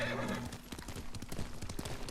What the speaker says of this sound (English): Oh, hello, horse.